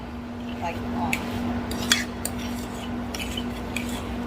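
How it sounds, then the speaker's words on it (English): A spoon stirs mashed potatoes in a pot after cold, unflavored almond milk is added, giving scattered soft scrapes and a few light metallic clinks over a steady low hum. "We give this a stir."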